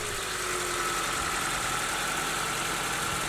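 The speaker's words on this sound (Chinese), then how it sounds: "我们把车启动检查一下" A 2014 Honda CR-V engine idling after a serpentine belt tensioner replacement, a steady, dense mid-pitched hum with a faint high whine, close and continuous with no talk.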